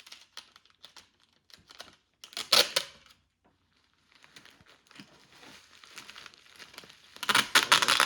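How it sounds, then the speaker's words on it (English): Clear sticky packing tape pulled and pressed over folded material for a homemade torticollis head brace, giving bursts of crinkling, ripping and tearing with a loud pull near the start and another at the end, separated by quieter rustling. "you're going to tape it with a clear packing tape, nice sticky packing tape"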